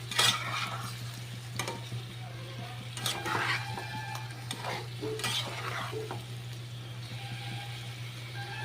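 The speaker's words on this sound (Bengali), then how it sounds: "এবার মশলাটাকে দিয়ে একটু কষাতে হবে।" Spice paste with ginger sautés in a pan, a soft steady sizzle under repeated scraping stirs of a spoon, close and moderately quiet, with a low steady hum beneath.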